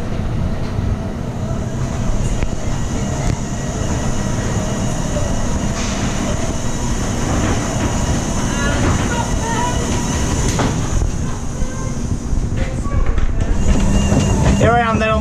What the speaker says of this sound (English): Here I am then on the train, got it all to myself, this one.